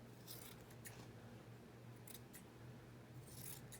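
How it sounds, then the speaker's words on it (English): Scissors cut a words-printed label out of a garment or fabric piece, giving a few faint, quick snips spread over a quiet background hum. "I might cut this part that has words on it out."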